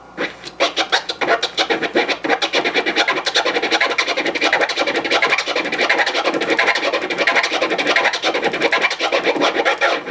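Fast, continuous turntable scratching using the Kermit scratch technique, with dense rhythmic strokes, loud and steady throughout with no voices.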